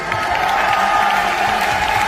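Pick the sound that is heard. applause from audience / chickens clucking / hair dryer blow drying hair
applause from audience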